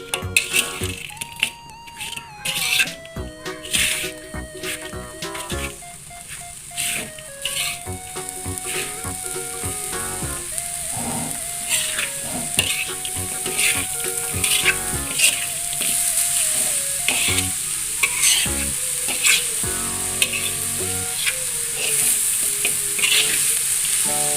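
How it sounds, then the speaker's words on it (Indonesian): A spoon stirs banana lepat mixture in a pan over the fire, with repeated scraping strokes over a steady sizzle and a background melody, the stirring rhythm continuing for the whole stretch. "kita hidupkan apinya dan diaduk-aduk"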